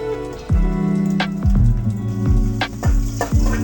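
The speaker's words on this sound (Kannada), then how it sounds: "ಇಲ್ಲಿ ಚಕ್ಕೆ, ಲವಂಗ, ಸೋಂಪು, ಮರಾಠ ಮೊಗ್ಗು ತೊಗೊಂಡಿದ್ದೀನಿ, ಅದನ್ನು ಹಾಕ್ಕೊಳ್ತೀನಿ ಹುರ್ಕೊಳ್ಳೋಕ್ಕೆ." Whole cinnamon, cloves, fennel seeds and marathi moggu are dropped into hot oil for a curry. A loud, close sizzle runs under a few sharp knocks, with no voices.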